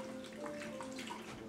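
Warm water is swished around in a container to dissolve sugar, giving a steady soft sloshing and swirling that runs evenly throughout with no talking.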